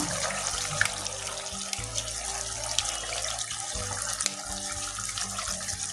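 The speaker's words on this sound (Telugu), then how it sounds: "కొన్ని వాటర్ వేసుకున్నాం." Water pouring into a pot of aloo kurma curry, a steady running splash with a low rumbling hum beneath, continuous for several seconds without talk.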